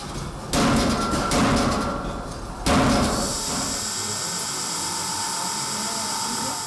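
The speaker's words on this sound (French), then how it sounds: "L'acier est chauffé, puis mis en forme grâce à la presse." A press forms heated steel in a knife factory in Oberburg, with two loud clattering mechanical bursts followed by a steady industrial drone of running machinery.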